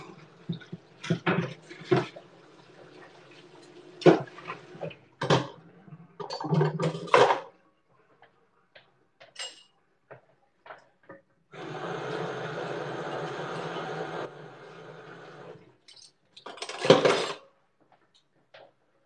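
Bar equipment rinsed under running water at a cocktail bar, a steady broadband gush lasting a few seconds, set between scattered clinks and knocks of metal tools and glassware, with a final brief splash.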